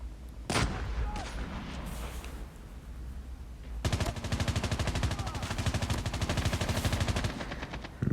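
Gunfire in the mobile shooter game Call of Duty Mobile: a loud single shot, then a pause with faint background noise, followed by a long rapid automatic burst of evenly spaced shots.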